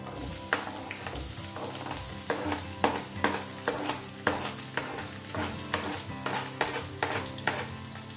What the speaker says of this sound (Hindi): प्याज को मैंने 1-2 मिनट के लिए भून लिया है